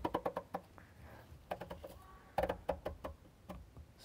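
A ratchet wrench clicks sharply and close in quick bursts while tightening during a BMW F30 oil change, pausing briefly between groups of rapid clicks.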